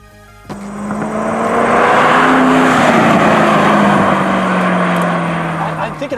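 A Ford GT40 engine revs hard at half throttle, a loud sustained roar that swells and holds for several seconds before easing slightly.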